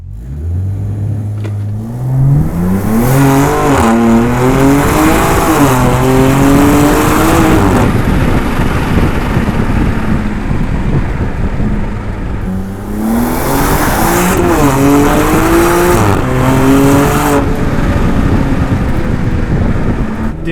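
A BMW M2 G87 fitted with a titanium equal-length exhaust accelerates hard in two loud pulls, the engine note climbing through the gears with shifts between, a short lull, then another rising run.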